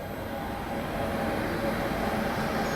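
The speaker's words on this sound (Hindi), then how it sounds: "और यहाँ अराइवल हो रहा है एर्नाकुलम पटना एक्सप्रेस का।" The Ernakulam Patna Express, a long-distance Indian passenger train, arriving at a station, heard as a steady, loud rumble of rolling wheels and carriages that holds constant throughout.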